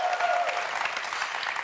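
A studio audience at a talk show applauds, a continuous rattle of many hands clapping together, moderately loud and holding steady for the whole stretch.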